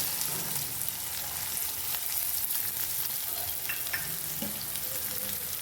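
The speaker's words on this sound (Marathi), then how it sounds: "एक थोडासा हिंग टाकून घ्यायचा आहे आणि त्याचबरोबर आपल्याला एक मी उभा कांदा कट केलेला बारीक तो ह्याच्यात टाकून द्यायचा आहे" Finely sliced onion and asafoetida fry in hot oil, giving a steady close sizzle and crackle with occasional stirring scrapes, continuous throughout with no talking.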